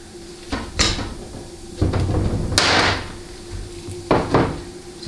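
Metal parts clunk and knock as a pump is test fitted into a 700R4 automatic transmission case: several distinct, fairly loud thuds and scrapes spaced irregularly, with quieter handling noise between them.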